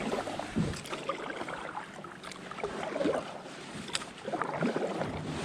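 A lone paddler strokes a kayak across open water at a crown land campsite, giving soft intermittent splashes and drips over a steady wash of wind and water noise.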